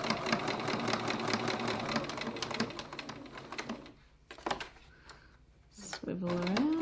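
Sewing machine stitching a wallet with grey 28 weight thread, running in steady rapid bursts with back stitching, pausing briefly and then starting again, loud and close.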